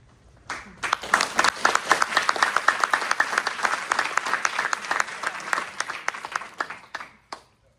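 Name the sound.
audience applauding at a school board meeting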